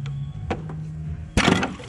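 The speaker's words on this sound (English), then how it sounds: "we are actually now at the point where we can give this a whack and hopefully it will come off" A tool whacks a water pump on a VW Audi 1.4 TSI CAXA engine to knock it loose: a few light knocks, then one sharp, loud crack of metal near the end.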